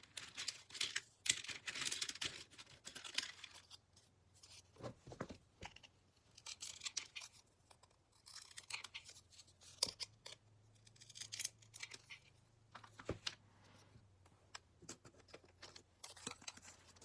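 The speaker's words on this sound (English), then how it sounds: "cut them into points" Scissors cut paper into points, crisp snipping strokes repeating in irregular bursts with brief pauses, close and fairly quiet.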